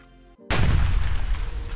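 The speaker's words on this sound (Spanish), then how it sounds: "Solo echa un vistazo a los científicos que realizan una prueba de presión de explosión en este prototipo." An inflatable space habitat prototype bursts during a burst-pressure test: a quiet tonal hum, a sudden loud boom and a rumbling blast that slowly fades.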